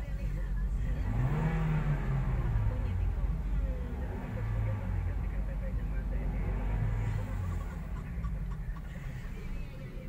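The 1.3-litre engine of a 2020 Toyota Avanza 1.3 G manual idles in a low rumble and revs up three times, each rise and fall clearly audible, with a voice talking over it.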